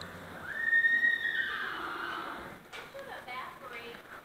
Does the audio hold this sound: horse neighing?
yes